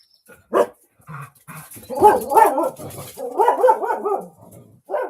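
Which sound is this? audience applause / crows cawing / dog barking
dog barking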